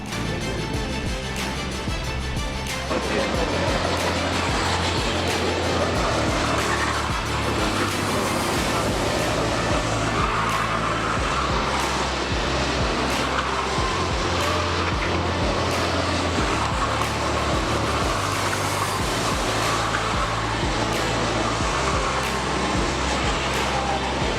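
Go-karts race around an outdoor track at a karting endurance event in the Var, a dense, continuous engine roar with shifting whine that swells throughout, loud and steady with no pauses.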